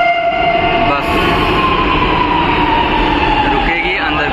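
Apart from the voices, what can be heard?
metro train arriving at station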